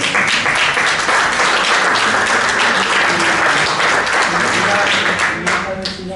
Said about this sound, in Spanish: Es un aplauso para ellos también.